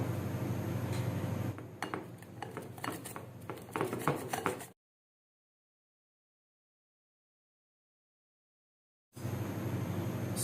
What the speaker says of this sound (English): So we are going to grate it.